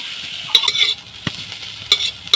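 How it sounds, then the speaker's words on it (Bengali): Onion and ginger fry lightly in a pan with a soft steady sizzle, broken by a few sharp scrapes and clinks of a stirring spoon, close by and with no voices. "পেঁয়াজটা হালকা করে ভাজছি"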